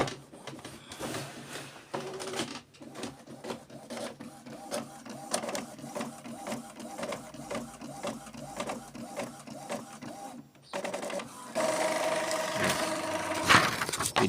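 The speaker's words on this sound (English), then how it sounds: "okay, say print. It's gonna come with a page count." Epson EcoTank inkjet printer printing a page, its mechanism whirring and clicking in a steady rhythmic pattern close by, with a louder feed burst near the end.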